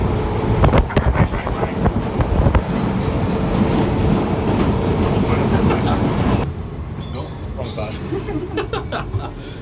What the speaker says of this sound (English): Welcome to the London Underground.